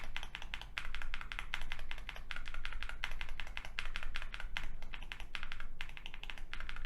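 Rapid typing on a keyboard fitted with lubed and filmed Gateron tactile switches, a dense, continuous stream of fairly clacky keystrokes heard close and alone.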